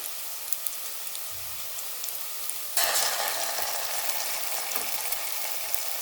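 Onions with ginger garlic paste frying in a pan for Bagara rice, a steady close sizzle that jumps sharply louder about halfway through as the paste hits the hot oil, then keeps crackling evenly.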